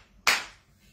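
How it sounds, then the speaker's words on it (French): A short, sharp burst of clapping from a small gathering, starting abruptly and fading away within about half a second. "On applaudit pour elle."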